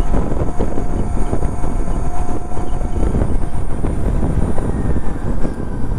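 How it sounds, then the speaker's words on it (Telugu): Ather 450X electric scooter motor whirring while riding on the road between Tirupati and Tirumala, a loud continuous hum mixed with strong wind rush and road noise, with no talk. "ఏవైతే వెహికల్ నుంచి వచ్చే సౌండ్ ఏదైతే ఉంటుందో, మోటార్ సౌండ్"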